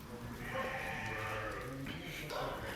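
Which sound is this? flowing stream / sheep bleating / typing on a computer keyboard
sheep bleating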